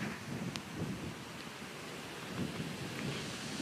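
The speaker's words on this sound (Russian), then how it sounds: "Сильный ветер опять у нас." Strong wind sweeps across an outdoor garden in a steady, loud, broadband rush that continues without a break from start to finish.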